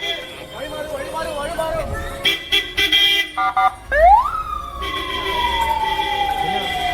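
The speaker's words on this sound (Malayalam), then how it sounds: "ആംബുലൻസ് സേവാഭാരത് ആംബുലൻസ് ഭിന്നിച്ചു പോകുന്നുണ്ട്" A Seva Bharati ambulance siren wails through a dense festival crowd at the Thirunavaya Kumbh Mela, with people talking over it, bursts of horns and a rising then falling electronic tone near the end.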